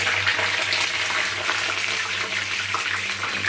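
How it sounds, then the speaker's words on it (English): Water trapped inside ginger bubbling up as it cooks in a pan, a steady sizzling hiss with a low hum underneath, continuous and close. "A little bit water is there inside that ginger, so it's just bubbling up"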